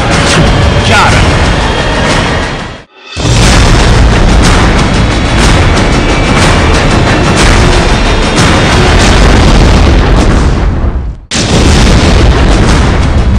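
Artillery guns firing shells at border posts, huge booming blasts filling the clip with roaring rumble, broken by two brief silent gaps, very loud and close.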